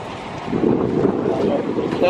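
Strong gusty wind buffeting the microphone outdoors in a crowded parking lot in Calgary, a steady broadband roar with rumbling gusts throughout, loud and close.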